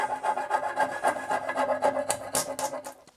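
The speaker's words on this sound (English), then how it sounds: "I'll just use a round file to clean the glue out of the mortise" A round file rasps back and forth inside a wooden chair mortise to clean out old glue, giving quick rhythmic scraping strokes, close and clear with no talk.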